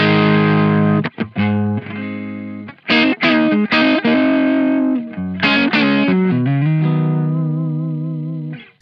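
An electric guitar on the neck pickup, played into an amp, gives a warm, slightly overdriven melodic phrase, single notes and bends ringing out, then a sustained note slowly fading.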